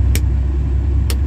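The differential lock of a Komatsu HD785 100-ton dump truck engages with two sharp, separate knocks about a second apart over the loud, steady rumble of the idling engine, heard close by with no talking.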